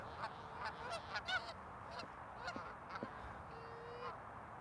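Geese honking outdoors, repeated loud nasal calls in irregular bursts from nearby birds, one drawn-out honk near the end, over a faint background hum.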